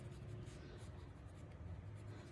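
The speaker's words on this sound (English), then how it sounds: "And then I'm also gonna cut straight along this line." Fabric being cut in a straight line with scissors while sewing a knapsack backpack, a soft steady rustling and snipping texture that continues for a couple of seconds with no pauses.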